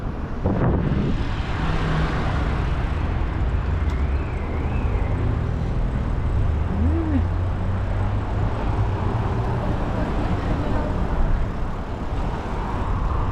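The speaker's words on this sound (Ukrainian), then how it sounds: "машин багато, розумієте, машин багато, Шум оце" Continuous road traffic rumbles through a small Polish town, a broad steady roar of passing cars and heavier vehicles heard from close by, with no talk over it.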